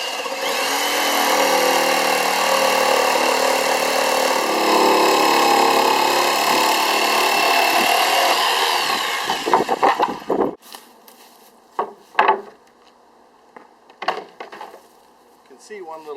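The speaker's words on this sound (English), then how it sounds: "Jigsaw." A jigsaw cutting wood for a hobbit door, a loud continuous buzzing whine for about ten seconds that then stops, followed by scattered clunks and knocks of handling.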